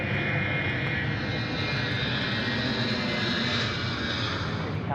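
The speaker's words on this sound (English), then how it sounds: "Singapore Airlines. Looks like the A380 is just popping through." A Singapore Airlines Airbus A380 jet at Sydney Airport gives a loud, continuous engine roar with a steady broadband rush, close and sustained throughout.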